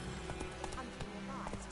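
Galloping hooves of Geralt's horse Roach in The Witcher 3 video game, a quick steady clip-clop rhythm running under continuous talk and game music.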